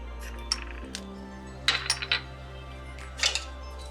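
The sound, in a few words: spoon mixing spices into the meat and paste in a pot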